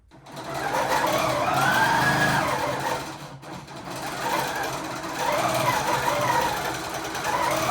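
Sewing machine with a 13-inch throat stitching with the stitch regulator on, a steady whirring motor that runs continuously, dips briefly, then resumes, close and loud.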